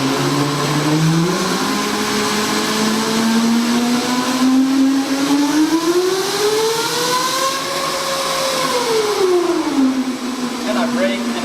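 An electric go-kart motor on a hardware-in-the-loop test rig whines loudly under throttle, its tonal pitch climbing, peaking, then easing back down over several seconds with layered harmonics.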